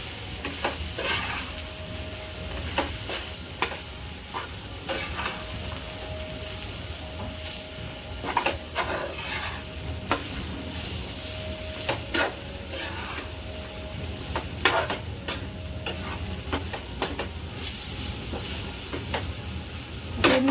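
Crushed stale puri chivda being stirred in a pan, a spatula scraping and tossing the dry mixture in a steady, continuous rhythm with occasional sharper knocks against the metal and a soft sizzle beneath.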